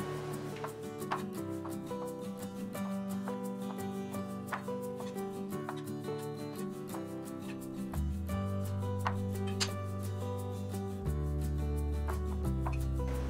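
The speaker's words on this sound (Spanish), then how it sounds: "Comenzamos picando naranja, uvas, fresas y manzana." Steady, rhythmic knife chops on a cutting board as orange, grapes, strawberries and apple are cut, repeating quickly and close by over continuous background music, with no one speaking.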